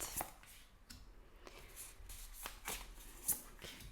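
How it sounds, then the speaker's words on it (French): Tarot cards shuffled and laid out by hand, a run of soft riffling swishes and light slaps at a steady close-up level, with one sharper snap near the end and no talk. "je place les cartes et puis on regarde ça tout de suite"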